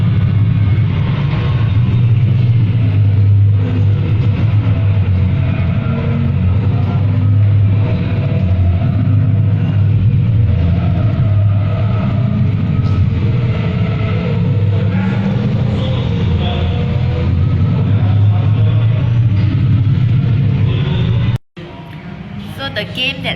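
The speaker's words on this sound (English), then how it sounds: "So this is a video clip of me driving the simulator." Racing car engine in the RaceRoom simulator on the Shanghai circuit, a steady loud drone held throughout before a brief cut near the end.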